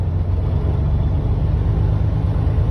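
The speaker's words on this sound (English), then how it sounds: "I can hear the RPMs change." A Freightliner truck sits parked during a regen, its engine droning steadily and loud with a deep low rumble as the RPMs shift, continuous throughout with no talk over it.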